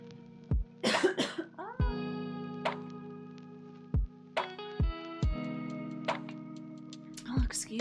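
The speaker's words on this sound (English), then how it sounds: "I'm gonna cough." A streamer coughs several times in short bursts against a steady low background hum, with sharp isolated coughs spread across the clip and a throat-clearing rasp near the end.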